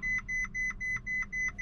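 A Ferrari 458 Italia chimes during startup with a steady series of short, clear electronic beeps repeating about every quarter second, fairly close, over a low cabin hum and no talking.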